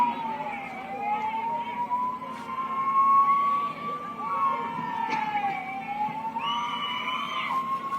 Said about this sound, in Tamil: ஆம்புலன்ஸ் வருது தம்பி கொஞ்சம் மெதுவா போ